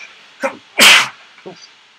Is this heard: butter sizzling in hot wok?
no